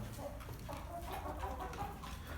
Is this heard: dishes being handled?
no